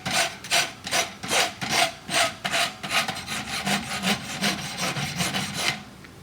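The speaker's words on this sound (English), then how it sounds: "A lot more file work on almost everything." A hand file rasps back and forth along the edges of an aluminum heart bar in roughly a dozen even, rhythmic strokes, close and clear with no talking.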